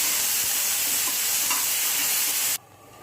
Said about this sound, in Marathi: जे मटर होते ते आपल्याला यामध्ये घालायचं आहे आणि त्याला चांगलं आपण फ्राय करून घेऊया